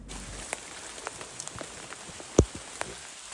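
Rain keeps falling on a mountain trail on Mount Kerinci via Kersik Tuo, a dense steady patter with a few sharper drops and one louder close knock, and no voices.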